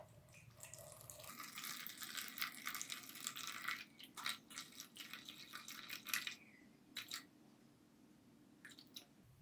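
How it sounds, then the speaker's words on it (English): Water being poured into a container while measuring it out for a cold process soap lye solution, a soft splashing trickle in bursts, faint and close, with no talking. "that is 199 grams of water. So I'm just pouring that out."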